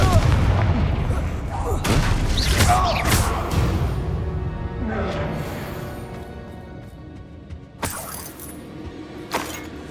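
Bombardo and Confringo spells go off in the video game Hogwarts Legacy as a cluster of heavy booming blasts up front, then a trailing rumble and a couple of sharp, lighter impacts near the end.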